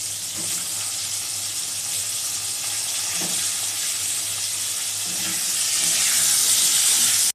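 Cumin seeds, green chilies and turnip frying in a pan for a home-style Bengali dish: a dense steady sizzle, close and loud, with a few soft stirring knocks, growing slightly hissier toward the end.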